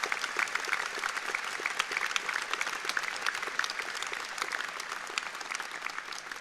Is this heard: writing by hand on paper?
no